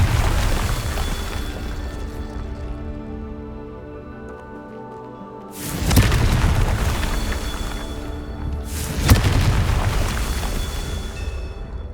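Deep booming blasts of the Confringo fire spell in the Hogwarts Legacy video game, two heavy explosions a few seconds apart over a droning magical hum, each with a long rumbling tail.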